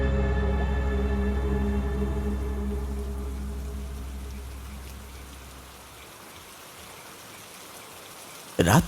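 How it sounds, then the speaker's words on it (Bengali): Rain falls in a steady, even patter beneath a low droning hum that fades away midway, leaving soft rainfall alone until a brief sharp noise at the very end. "বৃষ্টির শব্দটা যেন একটু একটু করে এক টানা সুরে রূপ নিচ্ছে।"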